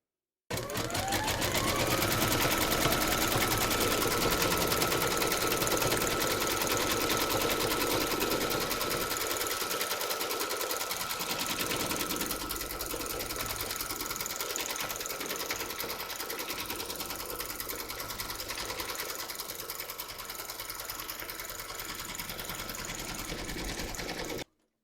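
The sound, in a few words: embroidery machine stitching teddy body outline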